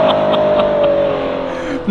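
A Ferrari F12 N-Largo engine pulls hard in first gear, its loud, close, steady tone holding high before a sudden shift near the end, with no voices over it.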